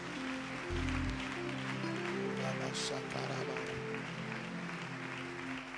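A church congregation applauds in a steady, sustained wash of clapping that fills the room, with a voice talking over it.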